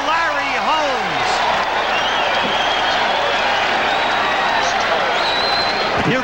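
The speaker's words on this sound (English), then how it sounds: "The crowd on its feet cheering for Larry Holmes." A boxing arena crowd on its feet cheers loudly for heavyweight Larry Holmes in his title fight with Ken Norton, a dense continuous roar with applause and shouts. A commentator talks over it throughout.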